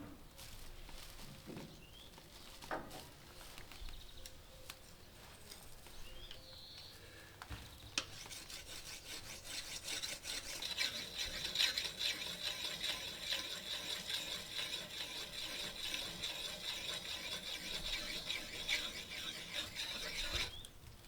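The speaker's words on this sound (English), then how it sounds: "remove a bit of this rust and build up of material on the blade with this sandpaper" Sandpaper rubbing rust and built-up material off a garden tool blade, a quiet, scratchy rasp that starts intermittently and then runs as steady continuous scraping close up.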